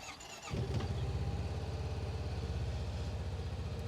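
A 2024 Honda Pioneer 700 Deluxe utility vehicle engine cranks and catches with a short squeal, then settles into a steady, rhythmic idle chug, close by.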